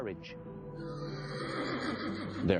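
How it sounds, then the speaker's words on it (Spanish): A horse gives a loud, quavering neigh that rises and trails off, with a sharper burst near the end, set within a documentary soundtrack. "Hubo un día en el que Filoneico de Tesalia llevó a Filipo un caballo llamado Bucéfalo"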